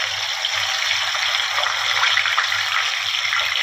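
Chicken pieces deep-frying a second time in very hot oil, a steady dense bubbling sizzle that stays loud and even throughout, with no talk.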